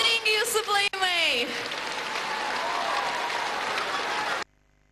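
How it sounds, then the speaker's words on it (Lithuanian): Audience applause at a 2008 Laumės juosta stage show, a dense steady clatter of clapping that swells right after a short sung or spoken phrase and holds evenly for about three seconds before cutting off abruptly. "Audringi jūsų plojimai!"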